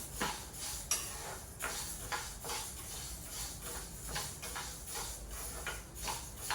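Moong flour being dry-roasted in a pan and stirred with a utensil, giving steady repeated scraping strokes at a fairly regular rhythm, close and moderately loud with no talking.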